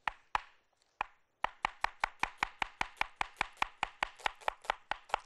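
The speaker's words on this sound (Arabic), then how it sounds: "قطع البصل كده" A knife chops an onion on a board in a fast, even run of sharp close taps after a few slower opening cuts, with no voices.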